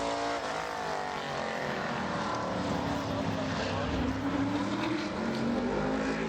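Modified stock cars race around the tight quarter-mile Bowman Gray Stadium during qualifying, a continuous loud engine roar with a rising pitch sweep as a car accelerates out of a turn, steady and dense throughout.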